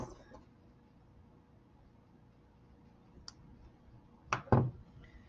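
Pliers snipping off the excess tail of wire while making a beaded link necklace: a couple of sharp, close snaps near the end after quiet, faint handling.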